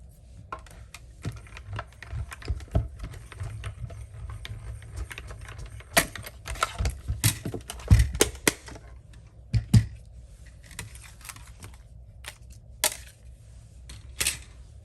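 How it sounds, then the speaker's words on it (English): A Stampin' Up mini Cut and Emboss machine die cuts a card sentiment, giving a run of close, dry clicks, cranking rattles and plastic knocks with sharper clatters midway, no voices. "Get our mini Stampin' Cut and Emboss machine so that we can die cut"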